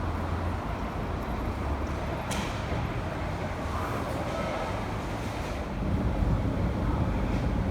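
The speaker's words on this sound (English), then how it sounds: "Gonna get on the metro here." A Shanghai metro train rumbles steadily with a dense, continuous roar and a few brief metallic squeaks, growing slightly louder toward the end.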